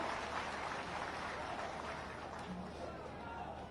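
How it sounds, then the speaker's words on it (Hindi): Crowd applause for the chief minister at a public foundation-laying event, a broad, even wash of clapping from a large outdoor gathering, somewhat distant and faint, with a low murmur of voices beneath. "जोरदार ताली बजाएं, जोरदार"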